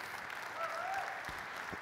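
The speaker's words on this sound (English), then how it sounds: "So I want to give them a big round of applause." Brief round of audience applause at a networking community event, a quiet, even patter of many hands lasting under two seconds.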